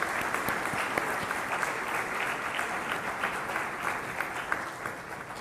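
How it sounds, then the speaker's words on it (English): An event audience gives a sustained round of applause for participating students at an AI challenge, with even, dense clapping throughout that thins slightly toward the end. "let's all give a round of applause, for the participating students"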